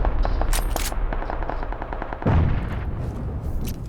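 Rapid bursts of automatic gunfire crackle throughout a battle in the PUBG Miramar desert map, with repeated shots near and far and a heavier blast midway.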